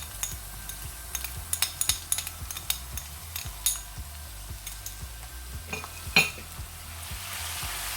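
Crushed garlic and ginger sizzle softly in a pan while a utensil scrapes and taps against it in an irregular stirring rhythm, close and fairly quiet.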